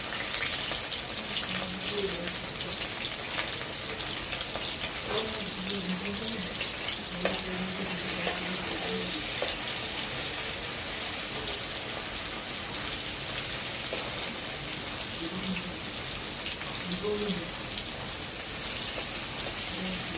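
Chopped tomatoes and green chillies sizzle in hot oil in a pan, a dense continuous crackling hiss with scattered pops, steady and fairly loud throughout with no voices over it.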